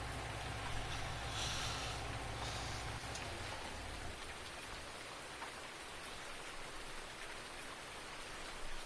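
Steady rain patters in a PS4 farming video game, a dense, unbroken wash of drops heard alone at a constant level, with a low rumble underneath during the first few seconds.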